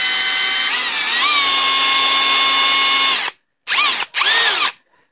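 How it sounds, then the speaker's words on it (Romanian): A Parkside PABSP 20-Li C2 cordless drill whines steadily at full speed, then stops and spins up in two short bursts that rise and fall in pitch, close and loud, with no talk. "Acel vârf de aici se învârte separat față de bormașină."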